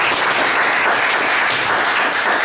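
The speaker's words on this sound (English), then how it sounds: "Really, a good round of applause to Toastmaster Jagdish." A loud, dense burst of applause from members at a Toastmasters club meeting, continuous clapping throughout the short moment with no talk on top.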